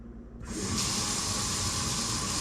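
A kitchen sink faucet turns on partway in and runs cold water into a clogged drain, a steady, close, loud hiss of flowing water that continues without a break.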